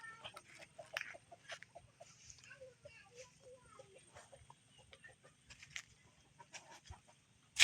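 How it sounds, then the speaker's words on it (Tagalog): Chickens cluck in scattered bursts around a rural farmyard in Palawan, with faint background noise and occasional louder clucks near the end. "Manok."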